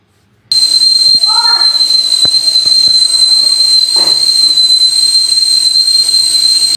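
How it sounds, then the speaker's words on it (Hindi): Pressure cooker whistle blowing steadily while semolina idli steam inside, a loud continuous shrill hiss that fills the whole clip after a sudden start, with faint kitchen clinks and a brief voice underneath. "और उसके बाद इसमें इस तरह से सीटी आती है।"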